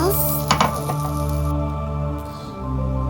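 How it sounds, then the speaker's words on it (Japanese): Asparagus and crushed almonds stir-fried in a pan for a Japanese lunchbox side dish: soft scraping and stirring clatter with a brief crackle over a steady background hum, close by, with no talking. "砕いたアーモンドも入れ、アーモンドの香りが立つまで炒めます。"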